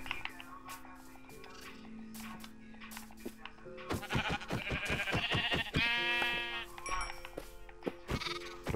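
Sheep in Minecraft bleat several times in close, loud, quavering calls among other blocky game sounds, with no one talking.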